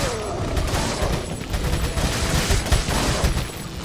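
Video game gunfire rattles on in dense, rapid bursts, a loud and continuous volley with no pauses and no voices over it.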